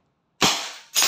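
An SNR 357 airgun revolver fires a shot that shatters a glass bottle: one sharp, loud crack with a breaking burst, followed shortly by a second sharp burst, with no talking.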